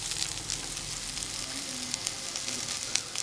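Onions, green chillies and tomatoes sauté in a pan for a spicy potato curry, giving a steady, moderate sizzle throughout with faint scraping.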